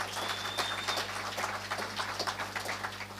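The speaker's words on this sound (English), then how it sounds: "I think she deserves a round of applause" An audience at a graduates' lecture gives a round of applause for the program director, steady scattered clapping over a constant low electrical hum, with a faint whistle-like tone early on.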